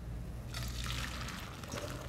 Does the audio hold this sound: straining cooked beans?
yes